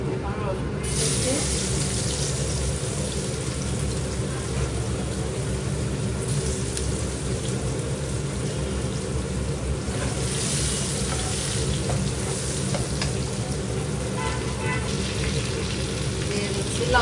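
Garlic sizzles and fries in hot oil for a Bengali curry of coral fish, flat beans and potato, a steady close crackle with brief stirring surges and bits of running water, while someone talks at times.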